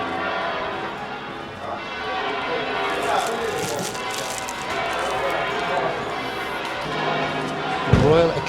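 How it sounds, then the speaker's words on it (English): Church bells ring and reverberate across Seville, Spain, a continuous layered clanging in the distance while people chatter nearby. "can you hear all the bells going off now?"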